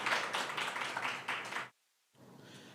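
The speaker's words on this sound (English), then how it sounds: "I would love the audience to give a round of applause to him." At a law event on race, an audience applauds in a dense wash of clapping that stops abruptly, followed by a short silence and then faint room noise.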